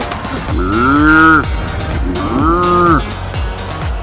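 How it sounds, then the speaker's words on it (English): A cow moos twice outdoors, loud and close, with two long drawn-out lowing calls separated by a short pause. "There's an actual cow over there."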